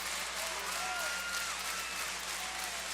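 Women's basketball arena crowd at South Dakota State during an Indiana timeout, a WNIT game, with a steady roar of cheering and clapping and a few whistles, heard under a commentator's voice.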